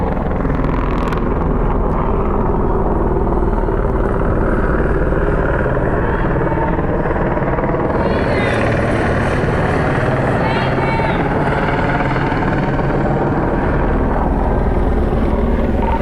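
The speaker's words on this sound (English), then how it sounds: "Here comes the helicopter" A helicopter roars loudly overhead in Hollywood, its rotor thudding in a constant heavy drone that fills the whole stretch without letting up.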